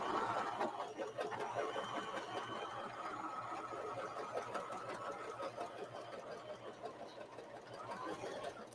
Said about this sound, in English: Okay, so I've sewed the one half of the side